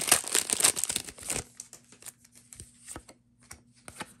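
Magic: The Gathering Wilds of Eldraine booster packs torn open, a loud burst of foil crinkling and ripping up front, then quieter scattered crackles and card shuffles over a faint steady hum.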